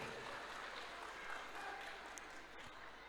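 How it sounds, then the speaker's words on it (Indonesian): An audience at a parenting seminar applauds in a steady, dense patter that holds for a few seconds, heard from some distance and fairly faint. "Tepuk tangan buat kita semua boleh."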